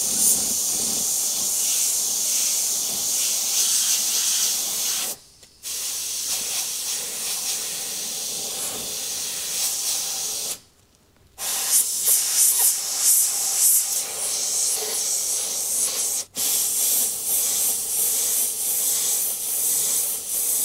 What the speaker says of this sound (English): moving with my airbrush, keeping that air press down at all times, and building up my white